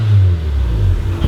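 A Mazda RX7 rotary engine idles and revs lightly through a freshly repaired exhaust, a low, smooth, fairly subdued drone close by with no talking.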